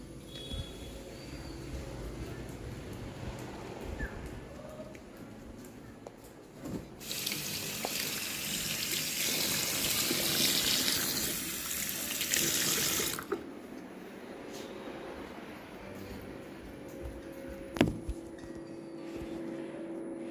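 Water runs from a tap for a few seconds as a bedsheet is washed, a steady close splashing gush that stops abruptly, with quiet household background before and after.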